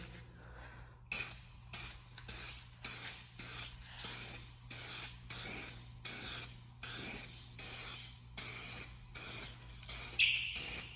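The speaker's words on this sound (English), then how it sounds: "So just a light spray." Rapid repeated hissing sprays from a spray bottle onto cloudy car headlights, about a dozen short bursts in a steady rhythm, close and fairly loud.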